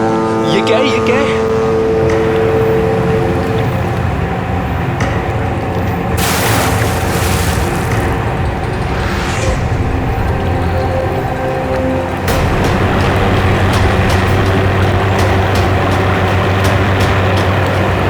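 A ship's engine drones as it draws near, a loud, sustained low rumble with heavy booming swells throughout, joined by a tense dramatic backdrop and people talking.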